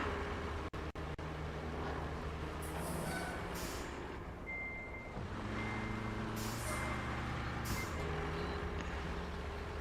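A heavy truck idles and rumbles in the RoadCraft game, with a couple of sharp air-brake hisses early on and intermittent reversing beeps over the steady engine drone.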